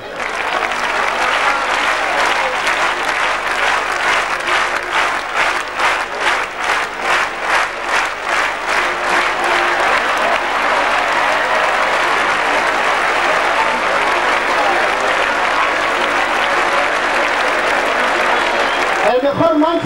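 A crowd at a Vinaroz bull-baiting event claps in loud, sustained applause that settles into a rhythmic beat for a few seconds before returning to dense, even clapping.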